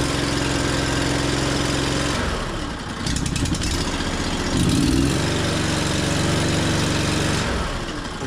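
A double drum roller's engine runs steadily at idle with a loud, continuous low hum and harmonic drone, briefly dipping and rising in pitch as the throttle fails to hold.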